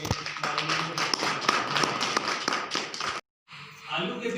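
Audience at a Christmas gathering clapping to welcome a guest: about three seconds of dense, crisp, close claps, then a short silence before a voice starts talking.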